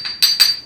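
A body hammer striking welds on a steel car body panel of a Lancia Beta Scorpion/Montecarlo, two sharp ringing metallic blows in quick succession, close and loud.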